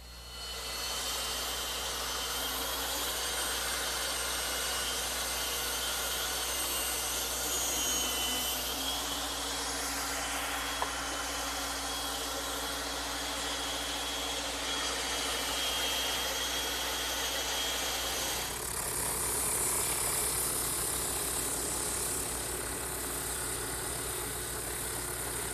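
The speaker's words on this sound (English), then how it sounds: "now it's back to the bandsaw and the drum sander." Power shop machinery, a bandsaw and a drum sander working wooden rocking horse parts, gives a steady loud motor drone with a droning hum and shifting whine as the work changes, running continuously for the whole stretch without talk.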